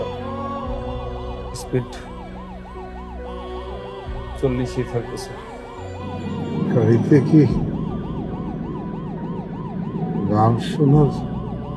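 An ambulance siren wails in a steady rising-and-falling cycle throughout, heard from inside a moving car while people talk over it and the engine hums low.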